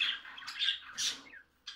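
Small birds squawk in short harsh bursts while bathing in a water dish, several close calls in quick succession with brief pauses between.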